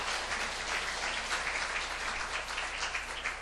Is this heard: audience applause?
yes